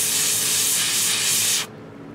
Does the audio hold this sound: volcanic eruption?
no